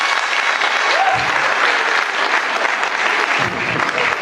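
Live audience at a French stand-up comedy show bursting into sustained, dense applause, loud and close, with scattered cheers and a brief vocal note over the clapping.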